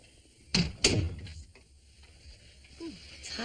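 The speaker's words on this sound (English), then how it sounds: "Close the door." A door shuts twice in quick succession indoors in a hospital office, two sharp close thumps followed by quiet room tone and faint movement.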